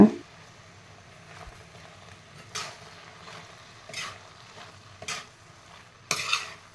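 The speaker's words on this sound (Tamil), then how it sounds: "எல்லாம் சேர்த்து நல்லா மிக்ஸ் பண்ணிக்கலாம்" Tomato rice being stirred and mixed in a pan, with faint sizzling under occasional short scrapes and clinks of a spoon against the pan, spaced a second or so apart.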